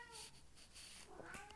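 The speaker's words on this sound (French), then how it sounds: "J'ai mon petit chat qui vient." A pet cat meows softly, a couple of faint short calls in a quiet indoor room.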